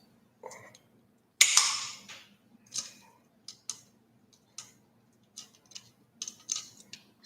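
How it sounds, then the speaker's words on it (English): Scissors snip a piece for a butterfly mosaic, giving a series of short, crisp cuts at an irregular pace. The cuts are close and fairly quiet, with small handling sounds between them and no talk. "Keep trimming it, putting it back."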